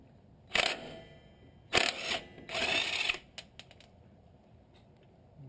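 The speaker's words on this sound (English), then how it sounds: "Just going to use the impact gun to loosen it up." An impact gun loosening a 17 mm lower shock bolt during a coil and shock suspension lift fires three short, sharp rattling bursts, the last one longest, then leaves faint clicks and quiet.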